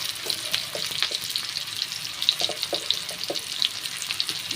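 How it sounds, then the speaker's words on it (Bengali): Onion sizzling in hot oil while being fried for a taro-leaf (kochu shak) dish, a steady close crackling hiss with scattered small pops and no talking. "পেঁয়াজটা একটু ভেজে নেব"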